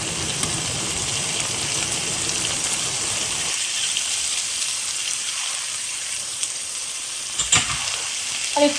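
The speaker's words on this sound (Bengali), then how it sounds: "পাঁচ সাত মিনিট একটু ভাজবো এই মশলাটাকে" Spice paste sizzles in a pan with a dense, steady hiss like rain, louder in the first few seconds, then thinning to a softer crackle with a brief clatter near the end.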